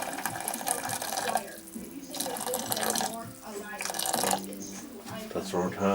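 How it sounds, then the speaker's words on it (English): Half a liter of water pours into a pot for porridge, a continuous splashing gurgle in several bursts at close range, while a voice speaks over part of it. "Let's pour half a liter of water."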